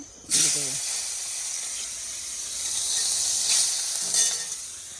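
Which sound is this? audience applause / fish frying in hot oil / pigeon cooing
fish frying in hot oil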